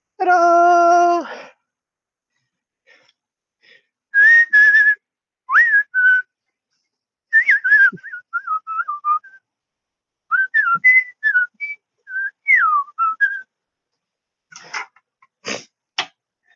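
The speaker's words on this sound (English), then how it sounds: "We whistle while we work." A person whistles a meandering tune in short phrases while working on a porch, loud and close, with gaps between phrases and a few sharp knocks near the end.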